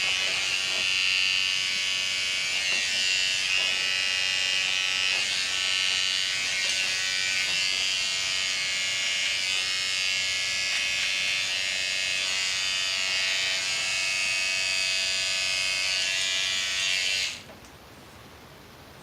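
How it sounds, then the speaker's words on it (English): Electric shaver buzzing steadily for about seventeen seconds as it trims messy neck hair beneath a big beard, a close, continuous high whine that cuts off abruptly near the end. "I'm just going to shave what's like, you know, messy down here on his neck"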